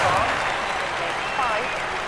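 Crowd applause inside the London 2012 Olympic Games video game, a steady wash of clapping and cheering that holds for the whole moment, with a commentator talking over it.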